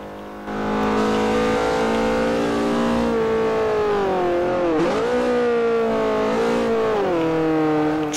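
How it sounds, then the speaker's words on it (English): Loud car engine revving in Forza Motosport 4, sustained and close with rising and falling pitch as it shifts through gears during aggressive driving, no talking. "Car is loud as hell."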